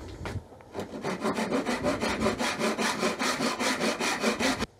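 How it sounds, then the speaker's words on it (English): A handsaw cuts through Jarrah timber clamped in a vise, a close, loud, rhythmic rasp of quick back-and-forth strokes that runs steadily for several seconds, then stops abruptly. "I'm just going to put it in the vise and I'm going to saw back to it"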